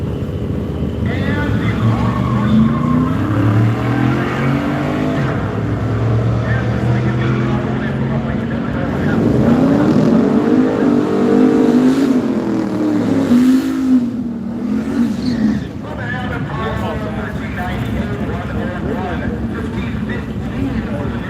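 Drag racing cars, one a turbo LS-powered entry, rev and accelerate at a dirt-track style event, a steady loud engine roar rising and falling with a pitch sweep midway, under a continuous announcer's voice.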